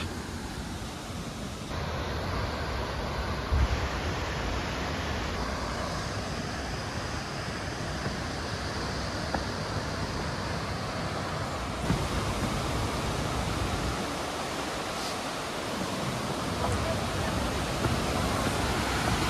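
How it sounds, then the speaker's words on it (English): Water pours through a narrow little spillway slot, a loud continuous broadband rush heard from nearby and steady for the whole stretch, with faint wind noise on the microphone. "All that water's pouring right through that little slot."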